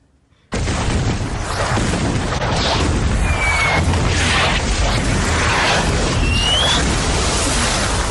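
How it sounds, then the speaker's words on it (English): Battlefield artillery fire from the Battle of Passchendaele rumbles in as a sudden, sustained barrage of heavy booms and blasts, loud and dense throughout after a short silent opening, with faint whistling streaks overhead. "Here come the guns!"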